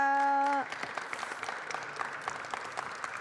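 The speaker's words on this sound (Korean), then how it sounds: "박수 부탁드립니다" A church audience breaks into applause at a televised visiting worship event; after a brief sustained musical tone, steady clapping fills the rest of the moment at moderate loudness.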